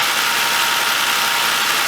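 A Mazda6 engine idles just after a new starter is installed, giving a steady, close, unbroken running hum with no talk.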